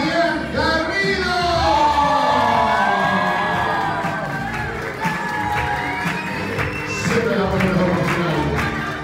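An audience at a party celebration bursts into loud applause mixed with cheers, whoops and shouting children, a dense crowd roar lasting several seconds under overlapping voices.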